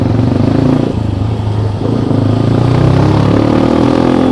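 A custom scrambler built on a TVS Max 125 motorcycle runs with a steady, close engine drone, its low pitch rising slightly as it pulls along.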